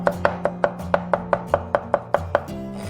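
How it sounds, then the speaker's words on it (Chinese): A knife chops crushed garlic cloves into mince on a cutting board, a steady series of about fourteen crisp, evenly spaced strikes, close and clear with no talking. "然后切成蒜末"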